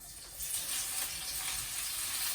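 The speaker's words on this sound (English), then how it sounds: "here I have a pan which is hot with about 4 tablespoons of oil. Into that I'll put 2 chopped onions" Two chopped onions fry in a hot pan with about four tablespoons of oil, making a steady, close hiss of sizzling that swells slightly after a quiet start and carries on alone.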